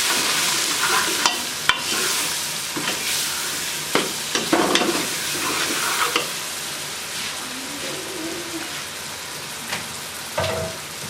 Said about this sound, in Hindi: अच्छे तरीके से मिक्स करके फ्राई करेंगे